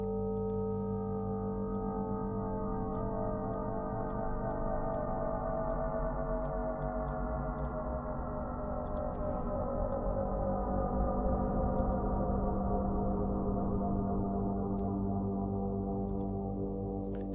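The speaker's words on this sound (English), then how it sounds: "So I've added the chorus. Let's add the reverb as well." A sustained synthesizer drone built for ambient meditation, thickened with chorus and reverb, holding a dense stack of steady harmonic tones that slowly shift in pitch over a long, unbroken stretch with faint ticking clicks above.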